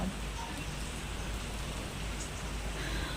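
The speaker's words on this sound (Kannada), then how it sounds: "ನೋಡಿ ಮಳೆ ಬರ್ತಾ ಇದೆ" Steady rain falling, a dense even hiss of drops on surfaces, moderately loud and unbroken throughout.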